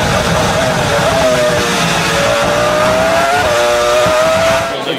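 A Formula 1 car's engine at onboard distance, from Lewis Hamilton's car: a loud, sustained high-pitched scream that holds and shifts pitch smoothly, with small steps between gears, before dropping away at the end.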